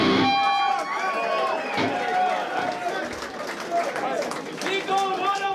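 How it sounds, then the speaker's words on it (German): A concert crowd at a Berlin club gives the sound engineer a round of applause: loud clapping and cheering mixed with shouts and chatter, swelling and continuing throughout. "Applaus!"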